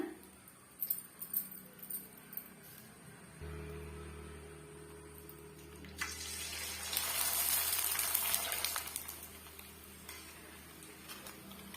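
Sago and potato vadagam fries in hot oil in a kitchen. Soft handling clatter comes first, then the sizzling swells and crackles as the piece goes in, and it stays audible for several seconds.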